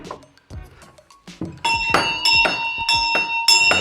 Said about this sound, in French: Donc vous entendez notre sonnette vintage, donc c'est ces cloches.